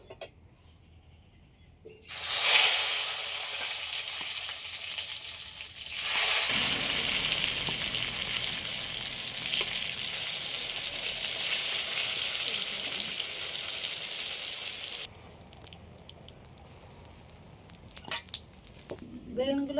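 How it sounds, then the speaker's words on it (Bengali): Eggplant slices dropped into oil left over from frying hilsa fish burst into a loud, close sizzle that swells further, holds steady, then drops away to quieter crackling and utensil clatter. "বেগুনগুলো ভেজে নেবো"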